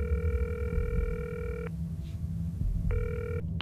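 A telephone rings twice in a game-show setting, two clear electronic ring bursts separated by a short pause, heard fairly close over a low murmur of room noise.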